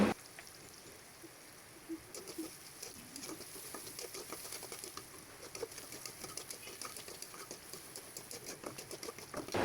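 Chopped onions fry in hot oil with a soft, continuous crackling patter of fine pops that starts low and gets busier after a couple of seconds, with no voices.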